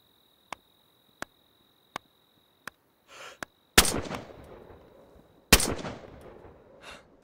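Gunshots in the survival game DayZ: several sharp, isolated cracks at a steady pace, then two louder, close reports with long echoing tails that ring out across open ground, a faint high insect-like whine running underneath.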